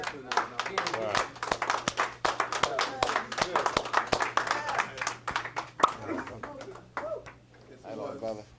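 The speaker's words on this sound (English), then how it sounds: "Give the brother another round of applause." Sharp, close hand claps from an audience at a round-table talk on etymology and Egyptian hieroglyphs. The claps come thick at first, then thin out, with voices speaking over and after them.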